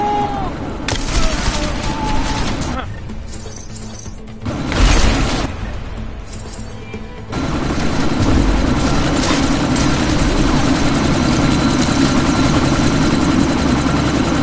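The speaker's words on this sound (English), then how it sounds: "That chopper's about to take off!" Helicopter in the video game Deus Ex: Mankind Divided, its steady rotor and engine roar filling the scene alongside bursts of gunfire, loud and continuous with brief dips before swelling again.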